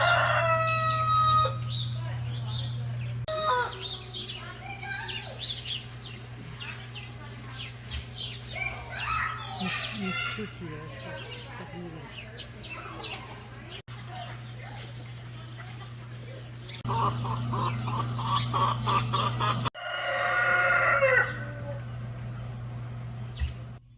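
A rooster crows loudly on a farm near Calgary, Alberta, with other chicken and fowl calls at the start and again near the end, over a steady low hum and faint background voices.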